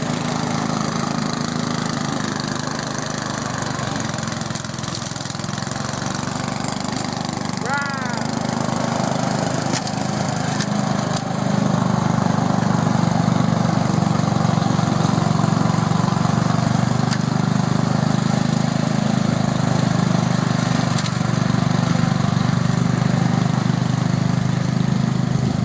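A tractor engine runs steadily throughout, a low continuous rumble that grows slightly louder partway through, with faint outdoor sounds on top.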